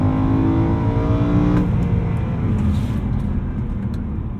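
Tuned 2010 BMW E92 M3 accelerating hard in second gear, a loud close engine drone that climbs in pitch and then cuts off into a lower steady road rumble, heard from inside the car.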